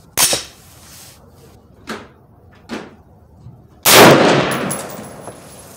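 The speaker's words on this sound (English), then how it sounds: "I'm going to be taking a second shot with the rifle resting on the handguard at 100 yards" LFA precision rifle fired while rested on its handguard at a 100-yard range: a few light clicks and knocks, then one loud, sharp report with a ringing decay.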